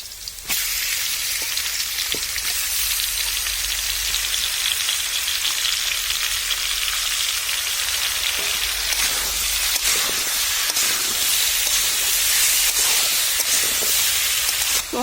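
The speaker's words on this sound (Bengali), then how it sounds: "তো হালকা মাছটা একটু ভাজা ভাজা হবে" Shol (snakehead) fish fries in hot oil alongside potatoes, giving a loud, unbroken sizzling hiss with occasional faint pops and clicks throughout, and no voices.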